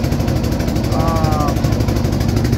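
A river boat's engine rumbles loudly and continuously on the Padma, with a brief faint whistling tone rising over the steady drone midway.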